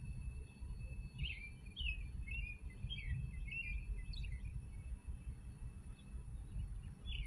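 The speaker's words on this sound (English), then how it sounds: "Birds are singing." Outdoor birdsong: several small birds chirp and trill at a moderate distance over a constant low rumble of wind or traffic, with no voices.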